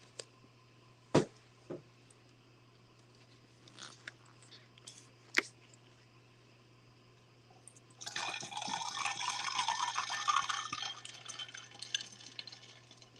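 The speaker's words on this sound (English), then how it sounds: "y'all hear the sound of that water touching that ice?" Water pouring over ice, a bright splashing fill that starts after a few quiet seconds with scattered clicks and taps, and runs steadily for several seconds at close range.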